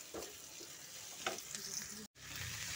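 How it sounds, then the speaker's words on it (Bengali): Meat stir-frying with spices and ginger-garlic paste, a fairly quiet, steady sizzle with occasional soft stirring scrapes and a short break of silence near the end. "মাংসটা কষিয়ে নিচ্ছি ভালোভাবে, সমস্ত মশলাপাতি দিয়ে দিয়েছি, দিয়ে মাংসটা কষানো হচ্ছে এখানে"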